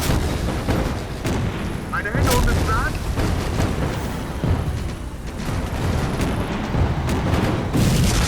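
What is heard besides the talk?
artillery fire in video game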